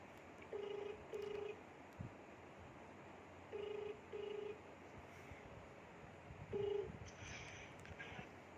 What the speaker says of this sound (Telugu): కాల్ చేయడం